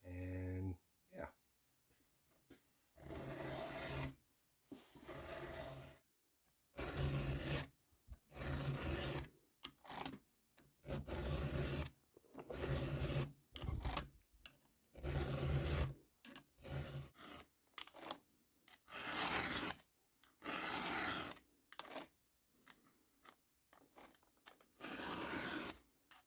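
Repeated rasping strokes of a round file sharpening the teeth of a chainsaw chain, close and steady in short rhythmic bursts with pauses between, and someone talking at times.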